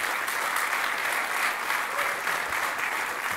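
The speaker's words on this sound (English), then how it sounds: "please give a big round of applause to Ada and everybody that organizes this" Sustained applause from a conference audience thanking the organizers before a lightning talk on React Native Paper, steady, moderately distant clapping filling the room without talk.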